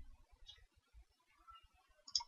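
A few faint, sparse computer mouse clicks, soft and close, spaced irregularly within a very quiet room.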